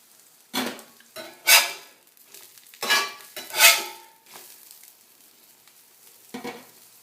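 Egg cooking in butter or bacon fat on a Lodge cast iron griddle, with several loud scraping, clattering bursts of a spatula against the iron over a faint sizzle, no talking.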